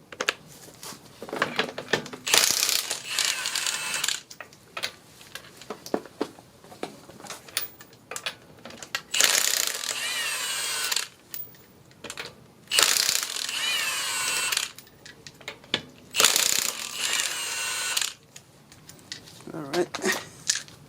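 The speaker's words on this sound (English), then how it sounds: "first we need to remove the tire. We'll be using" A ratchet with a 19mm socket clicks rapidly in several bursts, loosening the wheel lug nuts on a 2000 Honda Accord, loud and close, with pauses between nuts.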